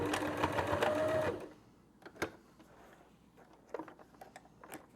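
A sewing machine stitches through thick tote bag seams in a fast, close mechanical whir for just over a second, then stops, leaving faint ticks and small handling noises.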